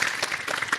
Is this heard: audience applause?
yes